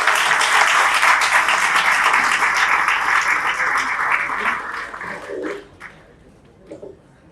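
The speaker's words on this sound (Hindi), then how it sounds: "जोरदार तालियों के साथ स्वागत करना है उनका स्टेज पे" An audience of students at a coaching academy results celebration welcomes the CEO onto the stage with loud, dense applause that keeps up for several seconds, then thins into a few scattered claps.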